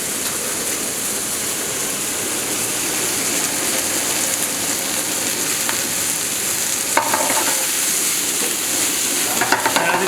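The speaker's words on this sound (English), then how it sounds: "As you start to move around, just try to gently break up the clumps of rice" Fried rice sizzles hard in a hot pan as it is stirred and broken up, a constant loud crackle with occasional scraping of the utensil, close up and without speech.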